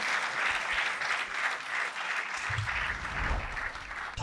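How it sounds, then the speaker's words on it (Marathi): An audience applauds a panel on a Marathi comedy show, steady rhythmic clapping from a crowd lasting throughout, fairly close and even, with a brief low thump near the end. "एकदा पॅनलसाठी जोरदार टाळ्या झाल्या पाहिजे. Start clapping."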